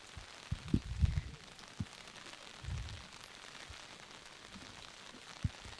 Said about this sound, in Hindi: बारिश तेज हो रही है